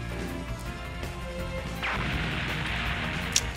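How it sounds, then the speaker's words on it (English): A fully charged Spirit Bomb attack in Roblox Anime Unlimited fires off as a sudden whooshing burst partway through, followed by crashing impact noise and a sharp pop at the end, over a continuous game soundtrack. "Fully charged Spirit Bomb"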